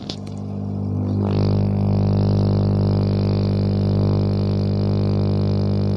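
A small Amara AA 9904 aquarium air pump starts up on its low setting and settles into a constant low electric hum with a faint hiss above it, running steadily close by.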